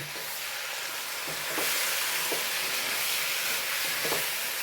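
Jackfruit biryani masala sizzles loudly and steadily in a pan, a constant hiss with a few soft stirring scrapes rising out of it, close and without talk.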